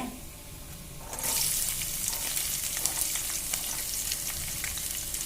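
Chopped onion hits hot oil in a pan for rice rava uppittu, a sudden burst of bright sizzling after a quiet start, then steady crackling frying continues close and fairly loud with no voices.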